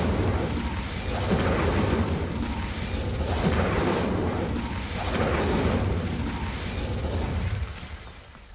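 Repeated Confringo and Incendio spell blasts fired in Hogwarts Legacy, a steady run of booming, crackling magical bursts with rhythmic swells and no talk, fading out at the end.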